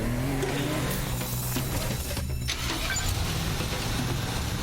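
A car in the Teardown video game drives along with a rumbling engine and rough noise, moderately loud and continuous, with a few clattering knocks and scrapes mixed in.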